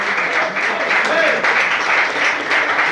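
A church congregation applauds, a steady dense wash of clapping hands that fills the room evenly throughout, with voices mixed in.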